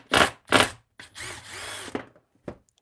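A cordless power drill works on motor mods for Arrma Kraton and Outcast 8S RC cars, sending out several short, sharp whirring bursts, two quick ones and then a longer run, with brief pauses between.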